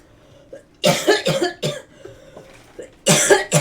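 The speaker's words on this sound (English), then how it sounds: "I need to get myself a drink before I start coughing" Several harsh coughs in close succession, loud and near, separated by short pauses, with no talking.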